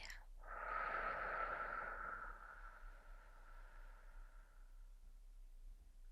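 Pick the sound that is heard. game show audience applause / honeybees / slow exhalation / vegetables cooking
slow exhalation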